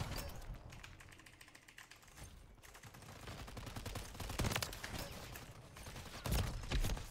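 Rapid bursts of video game gunfire, sharp repeated clicks and cracks in quick runs, fairly dense and moderately loud, with a few heavier thumps later on.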